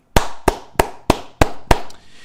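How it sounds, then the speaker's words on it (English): Six sharp, loud hand claps at a steady even pace, close up, with a faint seventh tap after them, meant to sound like cheeks clapping. "This is the sound of my cheeks clapping."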